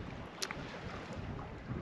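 Wind gusts buffet a GoPro 9 microphone on a river, giving a low, steady rumble that stays quiet with a brief bump in the middle.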